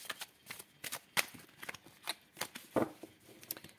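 Tarot cards being cut and shuffled by hand, a close series of quick riffling flicks and soft slaps in an irregular rhythm.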